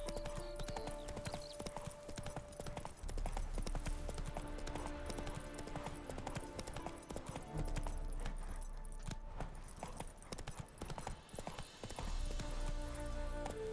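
Roach the horse gallops across a field in Witcher 3, hooves clip-clopping in a quick steady rhythm with tack jangling over a bed of game music.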